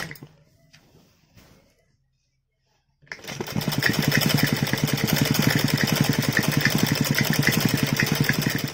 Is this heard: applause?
no